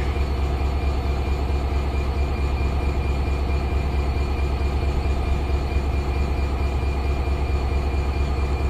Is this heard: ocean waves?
no